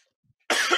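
A sudden burst of harsh coughing from a person with allergies, starting after a near-silent pause and continuing loudly and close up to the end.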